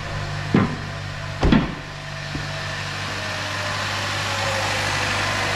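A 2011-2016 Chevy Cruze engine idles steadily after a clutch replacement, an even mid-level hum with a couple of short knocks early on.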